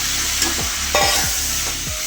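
Chopped tomatoes hit a hot spiced pan and are stirred, producing a loud steady sizzle with several quick scraping strokes of the spoon up close.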